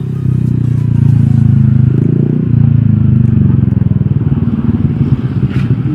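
A motorcycle exhaust rumbles with a deep, steady note, close by, the low throbbing pulse shifting slightly as it rides along streets in Garut.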